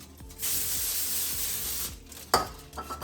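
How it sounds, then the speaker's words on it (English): A steady hiss of aerosol cooking spray on aluminum foil for about a second and a half, close up, followed by a crinkle of foil and a few soft rustles. "I have a piece of foil here, and I'm gonna spray the back of it."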